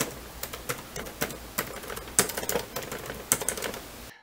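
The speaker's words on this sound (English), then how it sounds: "The one included is fine as far as cheap Bluetooth keyboards go, but the typing experience leaves much to be desired." Rapid clicky keystrokes on a cheap plastic Bluetooth keyboard of a Topton DS18 i3 laptop, a close, irregular patter of sharp taps with a few louder presses, heard alone.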